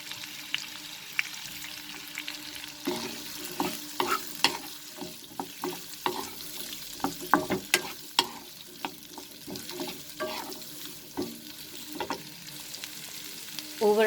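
Chilli cauliflower with capsicum and green chilies frying over a high flame, a soft continuous sizzle broken by frequent clinking stirs of a spoon against the pan, steady and close.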